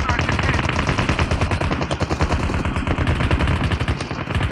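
Dense, continuous automatic gunfire in Call of Duty, rapid bursts overlapping one another at close range, loud and sustained throughout.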